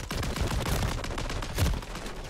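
Rapid automatic gunfire from a fast-firing weapon in Call of Duty: Modern Warfare III multiplayer, a dense continuous burst of shots with overlapping impacts, loud and close throughout.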